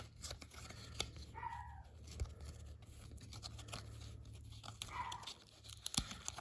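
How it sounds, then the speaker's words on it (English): Faint dog barks in the distance, two short bursts amid quiet rustling and handling noises. "Don't mind the dog barking there."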